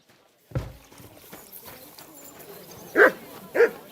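Dogs bark in a medieval village in Kingdom Come: Deliverance 2, two sharp nearby barks near the end after softer background game ambience and hoof-like clatter.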